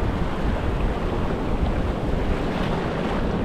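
Ocean surf washes onto a beach in a continuous, loud roar, with wind buffeting the microphone throughout and no voices.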